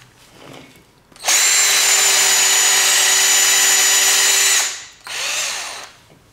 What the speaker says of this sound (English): A real high quality drill bit, you'll be able to drill right through and it will keep expelling all of the chips